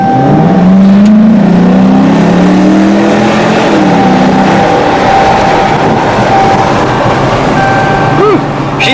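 A Dodge Challenger Shaker, freshly rebuilt after a wreck, accelerating on a test drive, heard from inside as a loud engine note rising in pitch over several seconds, then settling to a steady drone.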